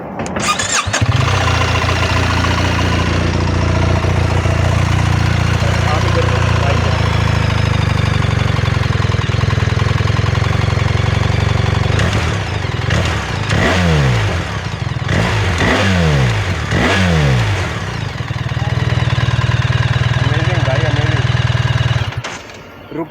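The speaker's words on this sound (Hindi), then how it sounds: "भाई 1300 सीसी इंजन बज रहा है, वो भी बॉक्सर।" A BMW R 1300 GS with a 1300cc boxer twin engine idles loudly up close, then blips through several sharp throttle revs with rising and falling pitch before settling back to a steady idle.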